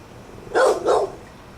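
A dog behind a fence barks twice in quick succession. The loud, sharp barks stand out clearly against faint outdoor background noise.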